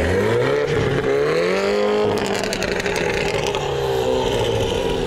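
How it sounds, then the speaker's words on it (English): A 2018 Mini with a manual transmission revs its exhaust hard and close, with a rising then falling engine note that climbs again. Loud and sustained throughout, with no voices. "Can I get an exhaust clip?"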